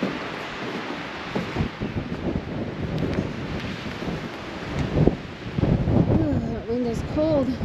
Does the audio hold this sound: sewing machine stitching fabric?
no